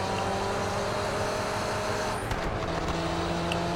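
A Nissan Skyline's engine in a racing video game, the car sounding rough as if it has gearbox trouble, a steady droning roar that surges and crackles partway through, moderately loud with no talking.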